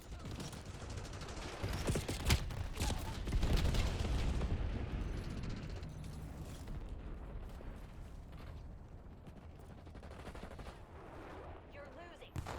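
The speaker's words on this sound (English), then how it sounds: "Napalm strike inbound." Napalm strike explosions in the Black Ops 7 multiplayer video game, a dense roar of blasts and crackling fire that peaks early and then settles into a sustained rumble with scattered gunfire.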